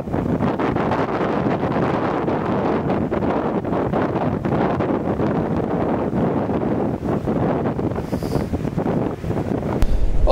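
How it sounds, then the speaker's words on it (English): Strong wind buffets the microphone on an Isle of Harris beach, a loud, constant roar with surf washing underneath and no voices. "Apologies if it's a little bit windy. I'm shooting straight into the wind here."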